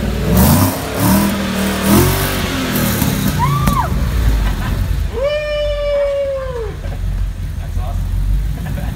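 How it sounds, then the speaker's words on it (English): A classic car styled as an Eleanor revs its engine in a couple of rising and falling bursts, heard under and between people talking excitedly nearby. "Joey, let's hear that engine a little bit."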